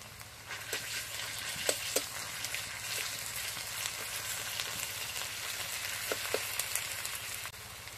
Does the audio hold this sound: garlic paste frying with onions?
yes